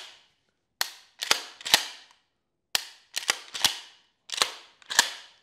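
A pump action shotgun being function tested after field strip and cleaning: sharp metallic clacks of the action cycling and dry-fire clicks, in three clusters of two to three crisp bursts separated by short silences, close and loud with no talk.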